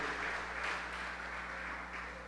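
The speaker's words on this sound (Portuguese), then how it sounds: "Vamos aplaudir o Senhor." A church congregation applauding, a dense, steady wash of clapping heard from a distance over a low electrical hum.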